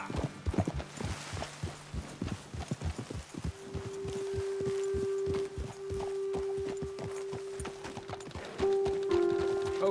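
Horses walk along at a steady pace in Red Dead Redemption 2. Their hooves give a close, even clip-clop, with a faint sustained tone humming underneath.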